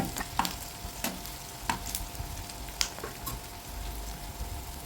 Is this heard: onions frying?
yes